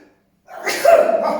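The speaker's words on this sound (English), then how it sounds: "excuse me, I'm gonna sneeze." A single abrupt sneeze at an open mic poetry event, bursting out after a moment of silence and trailing off with a breathy exhale, close and fairly loud.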